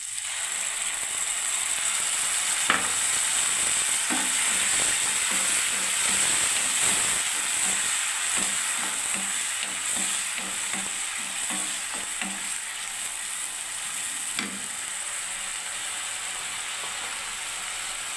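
Tomato paste fries in a pan for a Bengali mixed-vegetable chachchari, giving a steady close sizzle with repeated scraping and clicking from a spatula stirring throughout, no voices.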